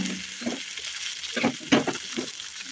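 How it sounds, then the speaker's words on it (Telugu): A pounded mix goes into a pan of curry-leaf and lentil tempering frying in oil, with a steady sizzle and several scraping stirs, close and moderately loud, no talk. "పోపు అంతా బాగా వేగింది కదా ఇప్పుడు ఇందా దంచుకున్న మొత్తం పోపులో వేసేసుకున్నాం"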